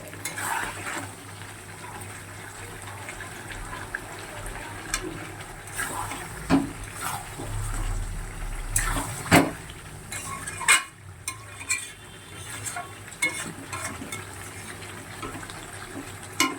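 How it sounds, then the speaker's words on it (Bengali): Chicken and potato curry is sautéed in a pot on a gas stove, with a spoon scraping and clinking against the metal in irregular strokes over a low, continuous sizzle, close and moderately loud. "এবারে না গ্যাসটা একটু কম করে দিয়ে ঢেকে ঢেকে দিয়ে কষাবো।"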